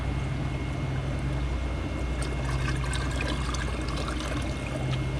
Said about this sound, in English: I just put a little bit on top of the soil and then water it in a little bit.